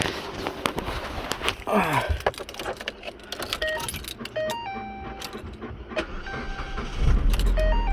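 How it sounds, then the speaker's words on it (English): A car battery-fault vehicle's engine catches after a jump start, a rising crank at the end giving way to a louder steady idle, following clicks, key jangles and chimes nearby. "car started"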